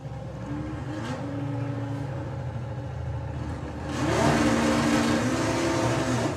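A VW Beetle drag car races at Santa Pod's Bug Jam with its nitrous armed. The engine drones loudly and steadily, then surges into a harsher, louder roar with rising pitch about two-thirds of the way through.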